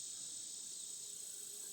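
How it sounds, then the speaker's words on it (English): Cicadas and katydids on a farm in the evening make a continuous high, shrill buzzing drone that stays steady and fairly faint throughout. "Cicada. And the katydids, they'll be starting to talk here at night."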